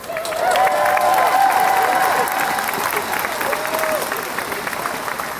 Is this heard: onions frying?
no